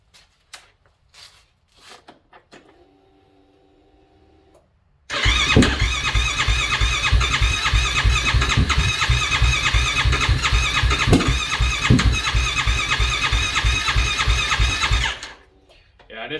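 A cold 2023 Yamaha YFZ ATV with a Vortex ECU starts hard indoors: a few short cranking bursts and clicks, then the engine catches and holds a loud, close, throbbing run with the throttle feathered before it shuts off.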